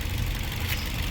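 A noisy Toyota 2NZ-FE car engine runs at a steady idle with a continuous low rumbling drone and a faint rattle, close and alone without talk.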